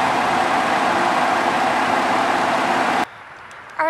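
A 2017 Ford Expedition with a 3.5-liter V6 runs steadily and close by with a broadband engine roar, then cuts off abruptly near the end, leaving brief quiet.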